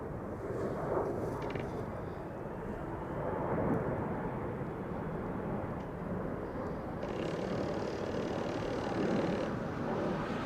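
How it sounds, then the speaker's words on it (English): An Air Astana A321neo airliner roars off the center runway at Amsterdam Schiphol, a broad, steady jet rumble that stays heavy and sustained throughout, heard from a distance outdoors with no voices. "Air Astana A321neo to Atirau just now took off"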